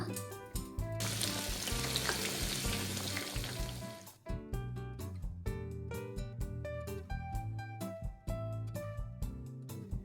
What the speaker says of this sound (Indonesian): Kemudian lanjutkan lagi goreng tahunya sampai matang.